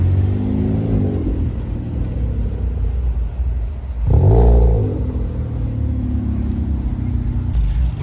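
Classic Triumph cars at an evening Piston Club car meet rumble close by, with engines revving and swelling midway, while a person talks over the steady low drone.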